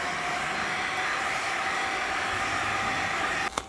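A heat gun blows hot air onto vinyl wrap on a car bumper, a steady, close, whooshing fan-and-element hiss with a faint whine that runs continuously, ending in a couple of sharp clicks.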